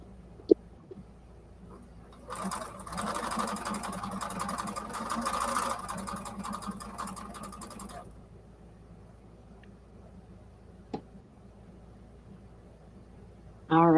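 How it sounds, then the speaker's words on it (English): A sewing machine stitches patriotic quilted placemats in one steady, loud mechanical whir lasting several seconds, with quiet room sounds and a few small clicks around it. "so I can sew these up"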